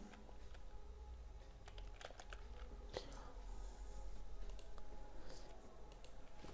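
An email address typed into the CC field on a computer keyboard, heard as faint, close, irregular key clicks over a low hum with quiet background noise.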